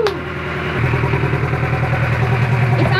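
A boat engine with its housing on but no filter is revved, rising to a loud, uneven running drone with a rough, pulsing beat rather than a smooth tone, close by.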